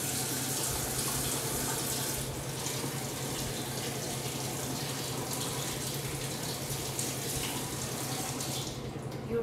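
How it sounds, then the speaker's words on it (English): Hot water pours steadily from a kitchen tap into a sink, a close, continuous rushing splash at an even level that tapers slightly near the end. "so I have to run hot water"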